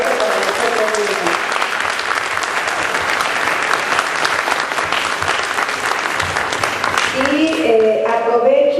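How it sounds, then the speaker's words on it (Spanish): A roomful of people at a sociology faculty gathering clapping loudly and continuously, dense applause throughout with voices rising over it at the start and end. "un fuerte aplauso para nosotros mismos"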